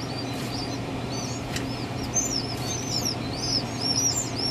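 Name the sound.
pheasant chicks chirping inside eggs while hatching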